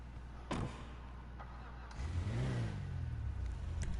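Video game car starting up and pulling out, an engine note rising after a brief clunk, with a steady mid-pitched drone and revving sweep through the second half, fairly close.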